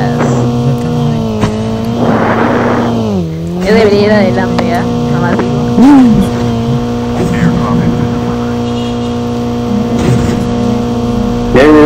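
A car engine in Call of Duty: Mobile holds a steady, close hum that rises and falls in pitch as the vehicle revs and shifts, with people talking over it.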